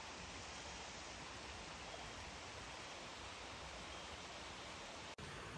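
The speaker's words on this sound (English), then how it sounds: "And we're gonna add some water." Water pouring from a container onto a mix of freeze-dried yogurt, fruit, powdered milk and cereal such as Frosted Flakes and Lucky Charms at a trail campsite, a continuous close hissing rush that stops sharply near the end.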